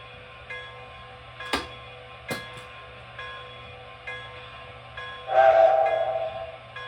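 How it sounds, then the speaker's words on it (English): An MTH Premier Erie 0-8-8-0 Angus model steam locomotive running on a layout with coal hoppers and a bobber caboose. A low hum is broken by faint rhythmic chuffs, a few sharp clicks, and a short whistle blast near the end. "let's go ahead and send this around the layout with some Erie coal hoppers and the bobber caboose"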